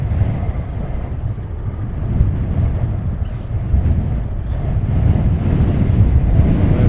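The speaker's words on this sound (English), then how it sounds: "Oh, wind, absolute bitter." Bitter wind buffeting a microphone outdoors at Luton Airport, a steady loud low rumble with gusty surges throughout and no talk.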